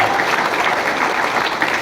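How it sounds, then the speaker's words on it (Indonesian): Applause from a church congregation at a Christmas service, a steady dense patter of many hands clapping throughout, fairly loud and even with no voices over it. "Tepuk tangannya kurang lancar."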